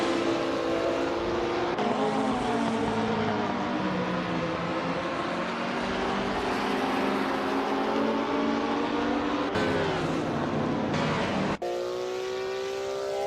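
Race cars roar continuously around a track on timed laps, engines revving high with shifting pitch as they accelerate, loud and close with a brief cut near the end; no talking.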